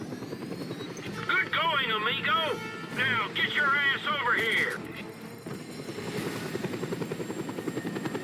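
Helicopter rotor and engine drone in the Just Cause video game, a steady loud thrum running throughout beneath voices talking over it.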